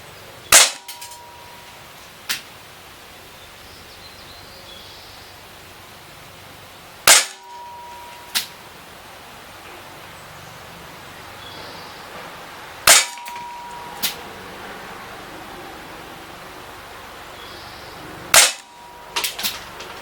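Umarex Smith & Wesson 327 TRR8 CO2 BB revolver firing four sharp, loud shots spaced several seconds apart, each followed about a second later by a fainter, smaller crack, over quiet background.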